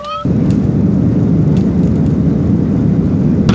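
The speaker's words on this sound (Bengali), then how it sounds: "বিমানটি রানওয়ে থেকে প্রচুর দৌড়াচ্ছে এবং এমন বিকট একটা শব্দ আছে যে কান মনে হয় যেন আটকেই যাচ্ছে" A Biman Bangladesh Airlines plane roars down the runway on its takeoff run, heard from the cabin: after a brief quieter moment the engine noise jumps to a loud, sustained, dense rumble that holds steady throughout.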